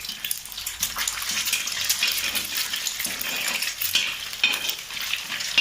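Something being stirred and lightly fried in a pan for egg noodles gives a steady broadband sizzle with scraping stirring strokes throughout, close and moderately loud, with no voices.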